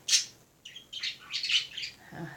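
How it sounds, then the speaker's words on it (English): Pet birds kept indoors under a cover chirp in short, bright, high tweets, several quick calls in a row close by, with no talk over them. "I covered up the birds, so hopefully they'll be a little bit quieter"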